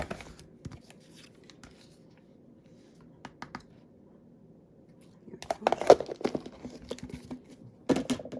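Scissors snip through paper card near at hand in a card-making session, a few sparse snips early then a denser burst of cutting and rustling toward the end, with quiet gaps between.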